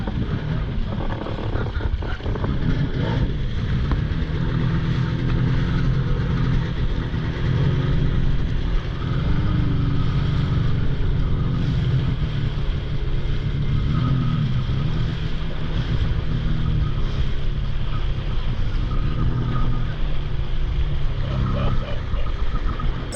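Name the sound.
wake boat engine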